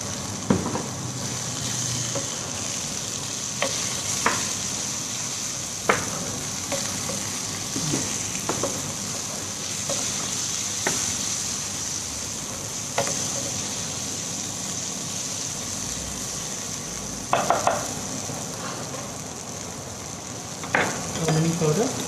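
Corn and boiled rajma sizzle and stir-fry in a pan for Mexican rice, with a constant hiss of frying broken by sharp scrapes and clinks of a spoon against the pan.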